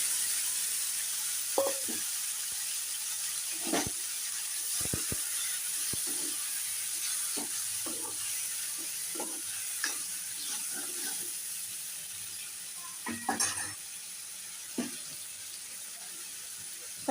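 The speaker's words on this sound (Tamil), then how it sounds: "வத்தல் சீக்கிரமாக ஃப்ரை ஆயிரும்." Dried vathal sizzling in hot oil for tomato koottu, a steady close frying hiss with scattered stirring clinks and scrapes, no talk.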